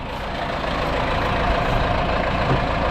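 A Zetor tractor engine running on a winter day, a steady, loud, low diesel drone close by with no pauses.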